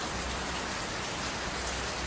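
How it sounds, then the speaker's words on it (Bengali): Steady heavy rain pours down in a dense, continuous hiss, loud and close, with no voices. "বৃষ্টিটা হালকা কমে গেল বৃষ্টিটা হালকা কমলো আবার আবার আসবে"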